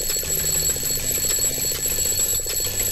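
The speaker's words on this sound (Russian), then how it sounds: "Джефф, у тебя будильник звонит." Alarm clock rings in the Roblox Doors game, floor 2 mine, a loud continuous rapid electronic ringing pulse that persists throughout without pause.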